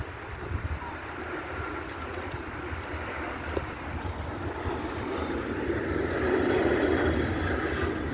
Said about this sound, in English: That plane, you can't see it on camera, but that plane is low.